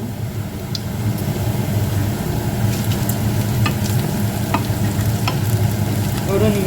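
Chillies, mustard seeds, chana dal and curry leaves sauté in hot oil for a Jaffna-style curd sothi, producing a loud, continuous close sizzle with light stirring scrapes and scattered crackles, no speech.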